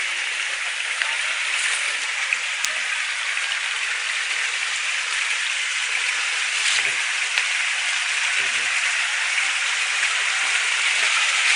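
Strong spring water rushing and pouring without pause, a dense, even close-up roar of flowing water, with only faint traces of a voice.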